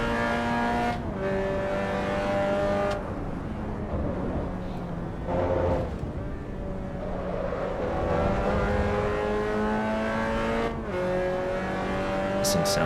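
Mazda MX-5 Cup race car engine in the racing game Assetto Corsa EVO, a continuous buzzing engine note climbing through the revs with gear changes and drops, loud and steady with no talk.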